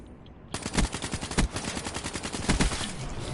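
Rapid automatic gunfire from Call of Duty Black Ops 3 online multiplayer on PS4 bursts in suddenly and keeps rattling loudly and continuously, with no talk over it.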